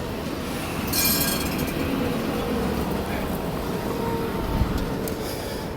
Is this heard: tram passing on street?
yes